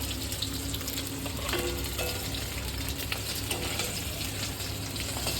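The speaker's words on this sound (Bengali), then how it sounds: "আমার মাছ ভাজা হয়ে গেছে আমি তুলে নিচ্ছি" Shol fish fries in hot oil with a loud, constant sizzle and crackle, broken by a few faint clinks and scrapes from the pan.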